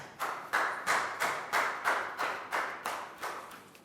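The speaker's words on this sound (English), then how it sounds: "Big round of applause for Prao." Classroom applause for a student, heard as about ten evenly spaced claps or slaps in a steady rhythm, fairly close and clear, with no talk over them.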